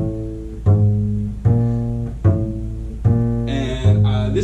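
Bass guitar finger exercise in one hand position, a repeating pattern of plucked notes: about six clear, sustained tones in a steady, moderate rhythm, played alone and close.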